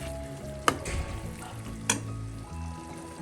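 Fish biriyani masala, made Naden style with seer fish, sizzles in a pan while a spoon stirs it. Two sharp scrapes cut through the steady frying hiss.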